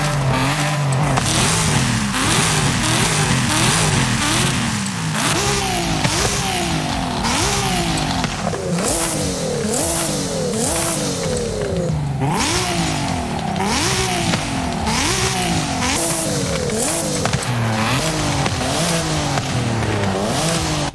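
A 2023 Nissan Z with stock engine and stock exhaust in Forza Horizon 5 revs hard through repeated gear changes, its engine note climbing and dropping in a steady sawtooth rhythm, loud and close, with no talk over it.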